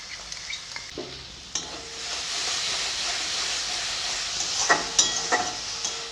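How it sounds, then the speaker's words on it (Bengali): Coriander powder spice mix being sautéed with curd in a pan for a cauliflower roast, with a few stirring clicks and then a broad, steady hissing sizzle that swells toward the end, close, with no talk. "ধনে গুঁড়ো মশলাটাকে ভালো করে কষাবো"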